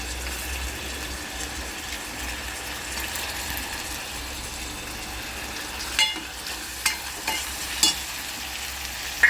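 Tomatoes, garlic and onion fry in a pan and give off a steady sizzle. A few clinks and scrapes of stirring come through near the end, and nobody speaks.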